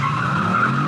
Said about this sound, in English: We're spinning the tires.